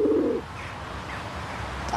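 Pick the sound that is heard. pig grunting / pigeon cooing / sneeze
pigeon cooing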